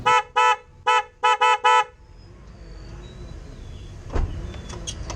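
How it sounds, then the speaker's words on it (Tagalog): An aftermarket Bosch Strider car horn on a Suzuki Celerio blares in five short, loud honks in a quick burst, followed by quieter traffic and engine rumble. "So testingin na natin itong Bosch na busina natin."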